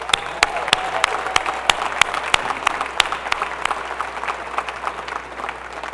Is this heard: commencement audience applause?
yes